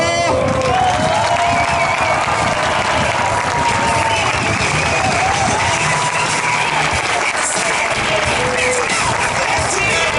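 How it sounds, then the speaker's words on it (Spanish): A large crowd at a Big Twin motorcycle show in Grao de Castellón claps, cheers and whoops loudly and continuously, a dense wall of applause with a voice over a loudspeaker underneath. "Aplausómetro preparado."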